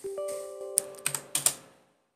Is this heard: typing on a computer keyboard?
yes